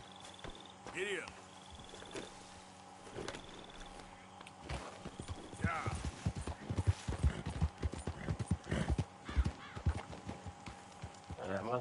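Horse hooves clip-clop in Red Dead Redemption 2, a steady run of hoofbeats that grows louder and busier in the second half, mixed with game music and someone talking over it.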